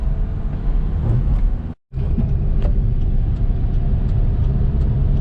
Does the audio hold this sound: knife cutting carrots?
no